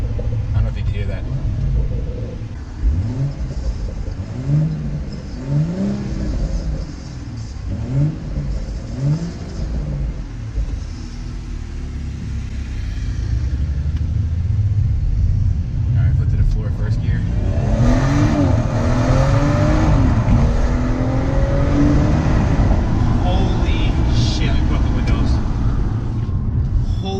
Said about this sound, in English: I'm gonna see if I can rev it for you up here.